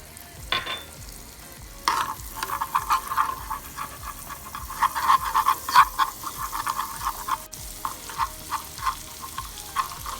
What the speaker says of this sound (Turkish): Yağ üstü için yağ eritiyoruz. Ee, kırmızı biberle bir yağ yapıyorum